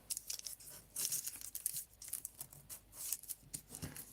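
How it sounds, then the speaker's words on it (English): A knife slowly cuts through a glue-gun mushroom craft that has not fully cooled, making soft, close, irregular scraping and crinkling sounds at a quiet level. "get a knife and just slowly cut this"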